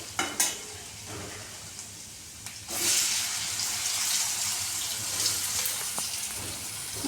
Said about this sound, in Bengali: আমি একটু আদাটা ভাজা ভাজা হবার পর এই আলুগুলো ছাড়বো